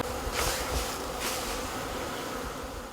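Honey bees hum in a close, continuous drone on Zimnako mountain in Kurdistan, with a few individual bees swelling louder as they pass near.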